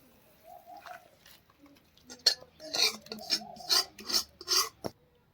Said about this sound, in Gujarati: અને બધી જ વસ્તુને સરસ રીતે આપણે મિક્સ કરી લઈએ.